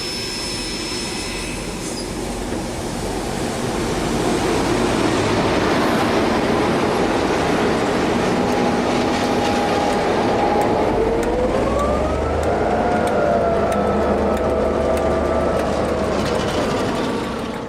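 A steam train travelling in New Zealand, a loud, continuous rolling rumble of wagons on the rails, with a drawn-out tonal squeal or whistle rising partway through.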